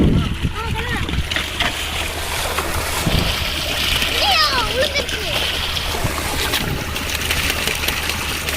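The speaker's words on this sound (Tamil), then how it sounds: "தண்ணியில கழுவ போறோம்." Water splashes and trickles steadily as sweet potatoes are washed outdoors in a village while children chatter and call out nearby, with occasional louder splashes breaking through.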